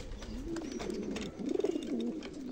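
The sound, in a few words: pigeons cooing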